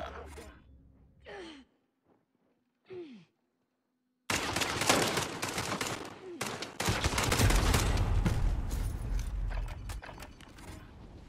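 Heavy gunfire in the shooter Call of Duty Modern Warfare breaks out after a quiet stretch broken by breathy gasps, with dense, sustained bursts of rapid shots and explosive rumble filling the rest of the clip.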